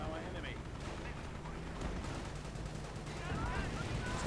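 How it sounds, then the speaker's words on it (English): Incoming gunfire and distant battle noise in a World War II video game fight between Commonwealth and Wehrmacht forces, a steady dense rumble of shots and explosions with a faint voice underneath. "We have a lot of incoming fire."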